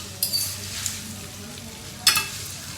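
Carbonara cooking in a pan, with a low steady sizzle and two brief louder scrapes of stirring or clinking utensils.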